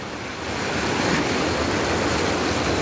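Strong current of the Bagsit River in Palauig, Zambales rushing steadily, a continuous close broadband wash of flowing water with some wind buffeting the microphone and no talk.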